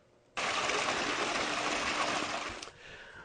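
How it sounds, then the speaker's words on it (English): A pool waterfall feature fed from a deck water stub up gushes on abruptly, a dense, steady rush of splashing water for a couple of seconds before easing back to a softer trickle. "here's a waterfall running from our stub up"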